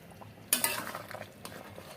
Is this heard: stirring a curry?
yes